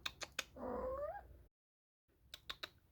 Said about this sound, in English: And here's a cat.